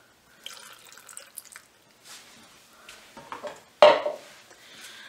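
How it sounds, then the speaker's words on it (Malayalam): Water poured from close by onto cut muskmelon pieces in a blender jar for a sweet melon juice, a soft trickling splash with light clinks of kitchenware, ending in a brief louder pour. "ഇതിലേക്ക് ആവശ്യത്തിന് വെള്ളം ഒഴിച്ച് കൊടുക്കുക"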